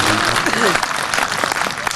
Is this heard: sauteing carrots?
no